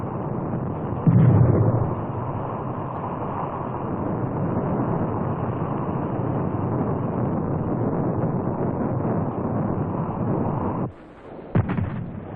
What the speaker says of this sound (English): Ammunition and fuel inside an enemy AFB normally detonates on being hit.